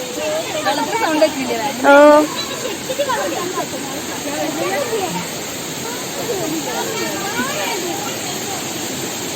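Water rushes and hisses continuously at Kottakkal waterfall, a broad steady roar under a man's nearby speech and a short exclamation.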